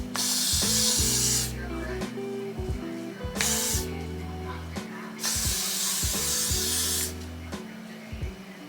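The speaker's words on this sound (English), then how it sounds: "I want to hit it with some Got to Be freeze spray so it can stay in place" Three sharp bursts of Got to Be freeze hairspray hiss from an aerosol can close by, each a second or two long, over a low humming background.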